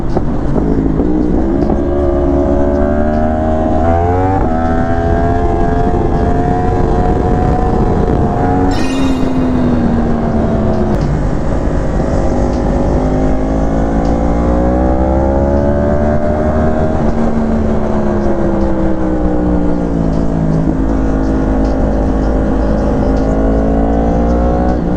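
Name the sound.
hot rod car engines revving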